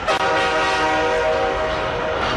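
A loud, sustained train horn blast sounds over rumbling rail noise for a couple of seconds, alone with no talk, used as a jingle opening a segment.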